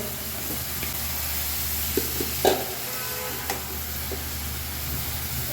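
Winter vegetables such as cauliflower, beans, eggplant, radish and tomato are stirred into a dried fish curry in a hot pan. A steady close sizzle of frying runs throughout, broken by a few soft stirring clinks.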